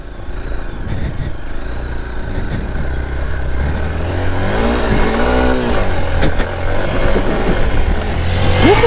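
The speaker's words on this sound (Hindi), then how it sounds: "काफ़ी धासु पावर है बाइक में" A Hero Xpulse 200 4V motorcycle revs hard while riding through loose sand, its engine rising and falling in loud, close surges throughout.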